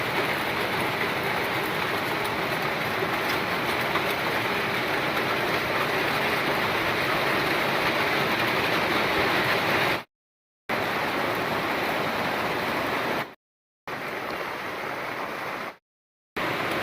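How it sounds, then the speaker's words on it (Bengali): Steady rain falls outdoors, making a continuous broadband hiss that stays even in loudness, with a few brief gaps of silence near the end. "বৃষ্টি শুরু হয়ে গেছে"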